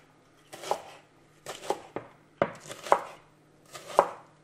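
A knife finely chopping leek on a board makes five short bursts of quick crisp cuts, close and fairly quiet, with pauses between them and a faint steady hum behind.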